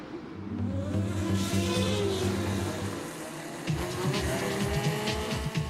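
Model racing cars run laps on a track during qualifying, with high whining motors, tire squeal and skidding, a steady engine drone shifting partway through as cars speed past, with some faint background noise.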